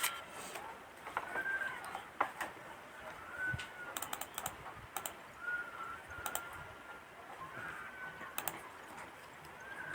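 Computer keyboard keys clatter in irregular quick bursts as a birth date is entered, light close clicks with pauses, while a bird coos softly in the background.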